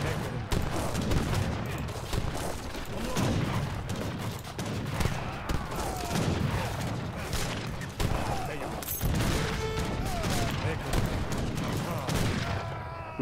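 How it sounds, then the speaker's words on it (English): Rapid gunfire rings out in the strategy game Age of Empires 3, an India campaign on hard, with dense overlapping musket shots and battle noise packed continuously throughout, a voice talking over it. "Have to shoot the guns."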